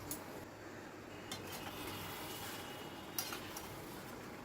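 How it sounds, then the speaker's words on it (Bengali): A lid lifted off a pan of simmering chicken, then a spoon stirring, with a couple of soft clinks against the pan over a steady quiet background hiss. "ঢাকাটা তুলে একটু নাড়াচাড়া করে দিচ্ছি।"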